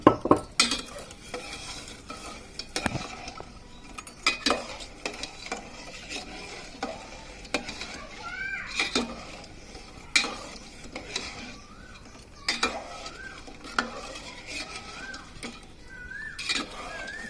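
Chillies and sugar are stirred in a cooking pan: a spoon scrapes and clinks in scattered, uneven strokes over a faint background hiss, close by with no talking.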